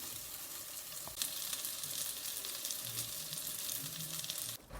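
Mackerel fish frying in a pan of hot oil, a steady, close sizzle with continuous crackle and spitting, no voices present.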